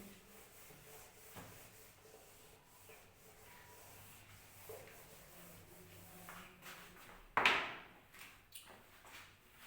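A duster rubs notes off a classroom board, with faint scuffing early on and then a loud, short burst of abrasive wiping strokes near the end, followed by a few softer rubs.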